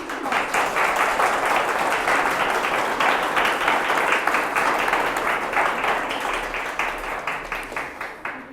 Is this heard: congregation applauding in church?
yes